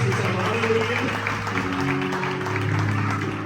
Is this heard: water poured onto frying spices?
no